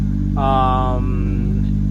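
A 2JZ-GTE engine in an SC300 build idles on a cold start, a low, steady, pulsing rumble close by, with a brief voice over it.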